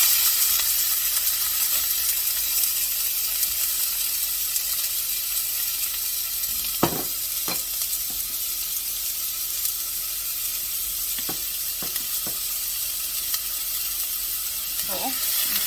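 Chopped onions sizzle in hot oil on a low stove for a beef pie filling, a steady, close hiss that never lets up, broken by a few sharp clicks and knocks of a utensil against the pan.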